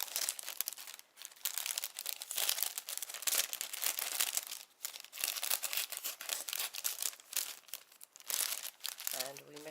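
Recycled plastic being cut to form a window in a craft project: continuous close crinkling and crackling with sharp snips, busy and fairly loud throughout.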